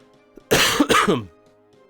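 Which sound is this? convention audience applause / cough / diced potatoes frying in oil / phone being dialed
cough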